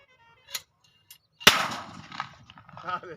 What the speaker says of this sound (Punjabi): ਇੱਕ ਬੰਦੂਕ ਟਾਈਪ ਹੈ ਜਿਹਨੂੰ ਤੋਪੜਾ ਕਹਿੰਦੇ ਨੇ ਉਹ ਚਲਾਉਣਗੇ